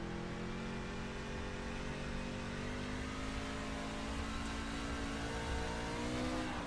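Race truck engine in the iRacing game at Knoxville revving steadily, with a continuous harmonic drone that rises and falls slightly, loud and alone throughout.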